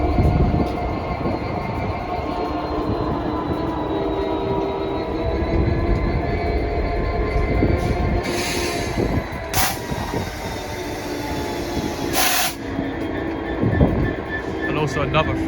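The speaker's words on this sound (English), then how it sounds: "And also another Freightliner Class 66. Going from Wembley Receptions to somewhere." Freightliner Class 66 freight train rolling past on the main line at Acton, a loud, continuous rumble of wagons with metallic wheel noise and faint squeals, and a voice speaking over it.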